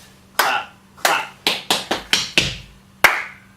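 Tap dance cramp roll steps, crisp percussive taps landing in a quick uneven run followed by a short pause and a final sharp hit, close and loud in a quiet room.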